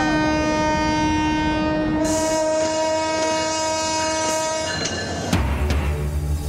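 A packed passenger train of homebound holiday travellers runs past with steady rumbling wheel noise, sustained horn tones and clattering wagons, loud and close, with no talk.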